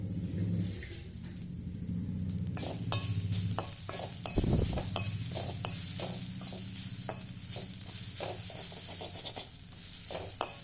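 Amaranth greens mixed with grated coconut are stirred in a pan, a spatula scraping and tapping in steady repeated strokes over a soft sizzle, close and moderately loud with no talking.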